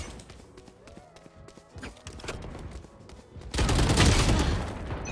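Gunfire from the Valorant video game: quiet scattered shots and footstep-like taps early on, then a loud sustained burst of rapid fire near the end, with no talking.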